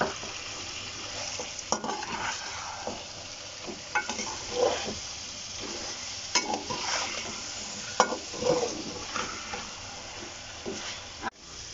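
Tomato and green chili masala for chicken biryani fries in a pan, a steady sizzle broken by repeated scraping stirs and a few sharp utensil knocks against the pot, close and continuous.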